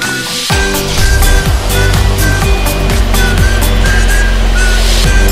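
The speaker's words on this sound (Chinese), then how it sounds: "发动。" A 2020 Mercedes G500 engine starts with a sudden low cranking surge, then settles into a steady, deep idle rumble, with faint tonal beeps above it.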